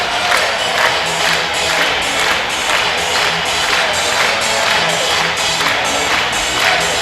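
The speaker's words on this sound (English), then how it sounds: "getting the crowd excited here again at Spartan Bowl" Spartan fans cheer and roar at a high school boys basketball game in the Spartan Bowl gym, a loud, steady crowd din with rhythmic pulses of clapping or stomping throughout.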